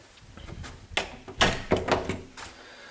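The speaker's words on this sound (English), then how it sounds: "Okay, so I'm gonna close the door." An interior door is being shut: a few close knocks and thumps from the door and its latch, moderately loud and short, with no speech.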